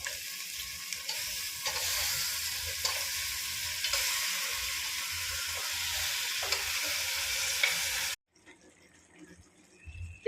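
Goat head meat frying with ginger garlic paste in a pan, giving a steady, close sizzle with occasional stirring scrapes for about eight seconds before dropping to a much quieter hiss.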